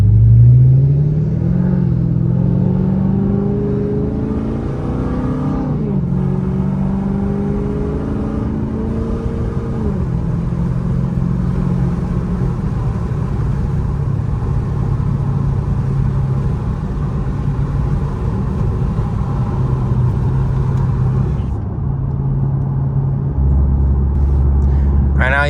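A 480 hp Dodge Charger SRT8 V8 rumbles steadily from the cabin, rising through revs as it pulls away and accelerates, then settling into a constant cruising drone with a deeper surge near the end.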